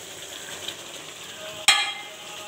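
Egg frying in a pan with mustard paste, giving a steady soft sizzle throughout, with a brief sharp crackle burst near the end as the egg hits hot oil.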